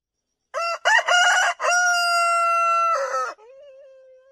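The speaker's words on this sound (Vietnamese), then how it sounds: "Tiếng con gà gáy sớm vừa vang lên, ông Sen giật thóp cả mình" A rooster crows at dawn as a close, loud cock-a-doodle-doo, a few clipped opening notes followed by one long sustained call, then a faint trailing tone, used as an audio drama effect.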